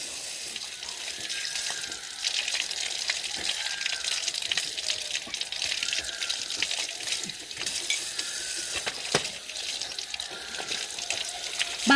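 Running water splashes steadily over a husky's feet during a wash, a continuous close hiss with small irregular spatters throughout.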